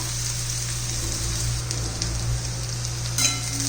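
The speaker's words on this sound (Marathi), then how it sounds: "चांगलं चांगलं परतून घ्यायचं आहे आपल्याला" Chopped onion sautéing in a pan for a spicy Maharashtrian roasted brinjal dish, a constant close sizzle over a low steady hum, with one brief louder crackle near the end and no talk.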